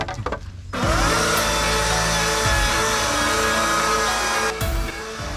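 A large AEG battery-powered electric chainsaw whirs up and runs with a steady, loud motor whine outdoors in the Victorian High Country east of Dargo, dipping briefly near the end.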